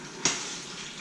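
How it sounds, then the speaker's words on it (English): Steady hiss of pork carnitas sizzling in a hot Instant Pot, with a brief clink near the start, continuing evenly throughout. "So as you can hear, it's starting to sizzle."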